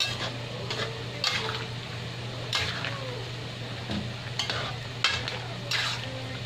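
Fish sauce hits a hot cooking pot of coconut-milk chicken tinola, setting off a steady crackling sizzle with sharp spattering pops over a low hum.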